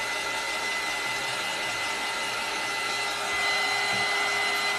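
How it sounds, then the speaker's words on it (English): A heat gun blows steadily to dry a rub-on transfer, a constant loud airy whoosh with a high motor whine, growing slightly louder near the end and heard alone without talk. "I don't like to wait, so I speeded up with my heat gun"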